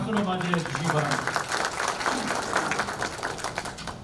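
A steady wash of audience applause at a Korean political party safety and livelihood meeting in Gyeonggi, dense continuous clapping at moderate level with voices mixed underneath.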